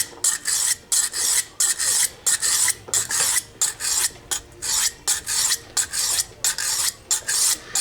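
A knife blade rasps back and forth across a 400-grit diamond sharpening stone in steady, rhythmic strokes, about two per second, close and clear.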